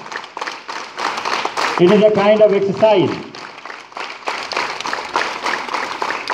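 Students at a school morning assembly clap their hands as an exercise, a steady wash of many hands clapping together while someone talks over it.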